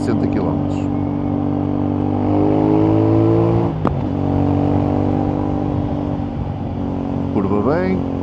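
A CFMOTO 450NK motorcycle with about 160 km on it drones steadily while being ridden, its engine note rising and falling through gear changes with a thud over a small bump, under a rider's talk and wind noise.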